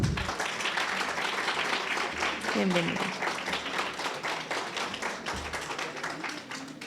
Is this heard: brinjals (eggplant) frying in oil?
no